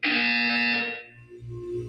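A loud electronic buzzer sounds in the video game Portal 2, a harsh steady tone held for about a second that cuts off sharply, followed by a low hum.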